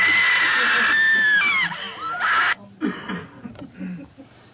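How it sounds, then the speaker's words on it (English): Audience screams at a 1950s William Castle horror film open with a long, high, wavering shriek, then break into shorter sliding cries and gasps of varying loudness. "the person in the seat right next to you will probably be screaming too"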